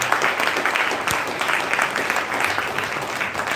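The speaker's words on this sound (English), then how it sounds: "Let's give a big round of applause to them." An audience applauds the finalists at a public speaking contest's grand finale, sustained crowd clapping that fills the room evenly, with a few sharper individual claps standing out and no talking over it.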